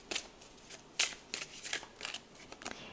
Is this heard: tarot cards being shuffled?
yes